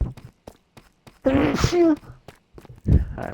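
A single sharp sneeze with an audible intake of breath bursts out close by, followed by a brief exhale and some quiet shuffling.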